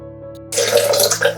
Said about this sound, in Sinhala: වතුර වීදුරු දෙකක් එකතු කරනවා අපි.